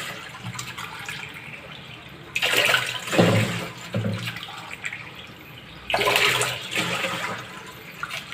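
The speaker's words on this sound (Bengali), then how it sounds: "চাল ধোয়ার পরে 2 কাপ চালের জন্য 4 কাপ পানি নেই।" Water poured over washed rice in a pot for a rice cooker, four cups for two cups of rice, comes in two close, splashing gushes with a quieter trickle between them. No one speaks.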